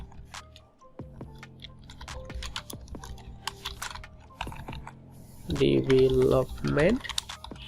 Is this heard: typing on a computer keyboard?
yes